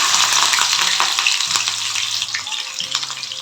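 Oil sizzling and frying steadily in a wok, a dense crackling hiss with occasional louder spits and faint stirring clatter, close and continuous.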